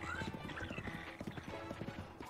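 Horse hooves clip-clop in a rapid galloping rhythm in The Legend of Zelda: Breath of the Wild, steady repeated thuds with a brief whinny near the start, over game ambience.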